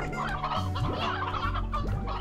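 Chickens clucking in the farming video game Slime Rancher, a steady run of in-game fowl calls and clucks over continuous background game music, with no talking.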